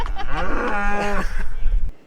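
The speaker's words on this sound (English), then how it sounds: "Have cattle take over our campsite" A single loud, close cow moo from cattle wandering through a campsite in the high Snowy Range mountains, a long drawn-out bellow lasting about two seconds before fading into quiet.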